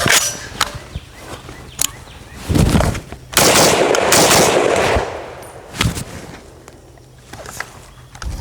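An FAL rifle fires loud, close shots, a few single cracks and then a short rapid burst, as the feed malfunctions between rounds.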